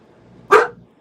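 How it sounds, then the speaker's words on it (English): A dog lets out one loud, close bark that cuts off quickly, with no other sound around it. "Hanging with the dogs."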